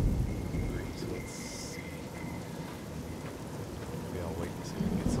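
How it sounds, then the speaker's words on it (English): Steady rain pours in the wasteland of the video game Fallout New Vegas, with low rumbling thunder rolling underneath and a few brief tones, while someone speaks briefly over the storm. "Maybe I'll wait until we get somewhere out of the rain"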